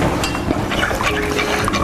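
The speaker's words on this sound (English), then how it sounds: "Now I'm going to add just that water, like I said, to the peaches." Water poured over peaches in a pan gives a loud, continuous splashing and gurgling for about two seconds.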